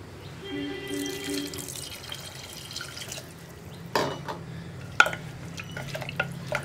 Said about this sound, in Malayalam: ഇനി നമുക്കിതിലേക്ക് വെള്ളം ചേർത്ത് കൊടുക്കാം.